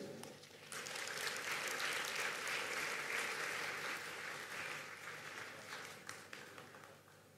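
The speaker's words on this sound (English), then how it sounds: "Another round of applause for President Bio." Sustained audience applause at the 2023 Africa Climate Summit following a head of state's national statement, a dense, steady roar of many hands clapping throughout that tapers slightly toward the end.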